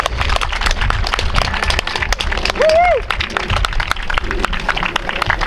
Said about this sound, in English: Give your parents a round of applause right now, please, for the sacrifices that they made this season.